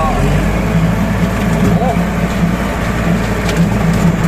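Four Kubota L5018sp tractors mow grass in a rainy palm plantation, their steady engine drone close and continuous with mechanical rattle, while a voice talks over it.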